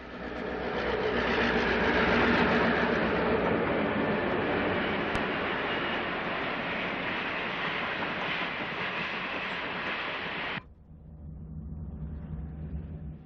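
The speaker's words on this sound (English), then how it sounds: "Arriving at Chicago's Union Station is train number 71," Diesel passenger train number 71, the Admiral, rolls into Chicago Union Station with a loud sustained rumble and rattle of cars that cuts off abruptly, leaving quieter ambient noise.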